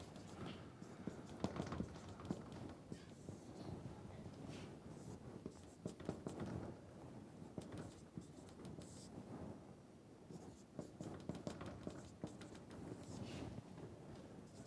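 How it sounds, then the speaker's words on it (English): Chalk or marker writing on a board during a solid mechanics lecture, a run of faint scratchy taps and strokes in a quiet room. "I'll write it down."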